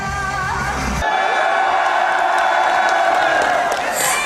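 A crowd at a Japan Expo fashion competition cheers and applauds loudly, with whoops and yells in a sustained roar of noise.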